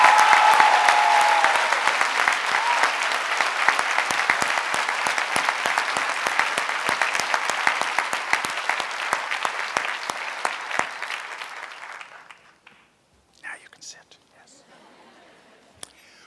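A graduation audience at a college commencement claps in a dense, sustained ovation, loud and continuous for about twelve seconds before fading abruptly into near silence with a few stray claps.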